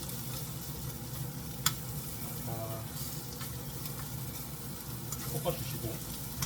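Onions stir-frying in a pan for quesadilla filling, with a steady close sizzle and occasional scraping stirs of a utensil throughout.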